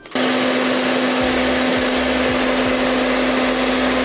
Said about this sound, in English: Now I'm gonna take my blow dryer on the cool setting to melt the glue into the lace